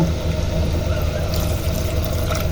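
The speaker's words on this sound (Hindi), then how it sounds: "पानी डाल के ना इसको" Water pours into a clay pot of matka gosht, a continuous, fairly loud gushing rush that holds steady throughout.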